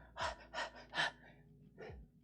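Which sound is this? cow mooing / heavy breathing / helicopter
heavy breathing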